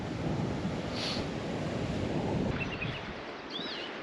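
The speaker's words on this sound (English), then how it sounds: "So obviously the wind's coming straight at me." Strong wind buffets the microphone on the coast between Prussia Cove and Marazion, a loud continuous roar with surf mixed in and faint bird chirps near the end.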